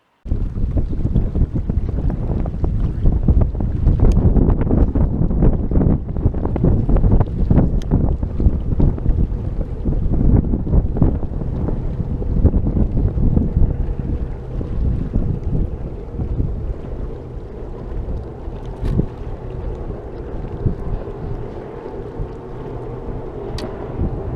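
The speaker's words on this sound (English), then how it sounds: "there's heck of wind" Strong wind blows across a fishing boat out on the water during glide-bait fishing, a loud continuous roar and microphone buffeting that eases slightly toward the end, with no voices.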